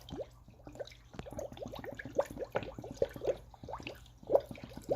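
A 60-40 coolant and water mix being poured into a Dodge Ram 1500's cooling system, with soft gurgling, dripping and liquid glugs in irregular bursts, quiet and close.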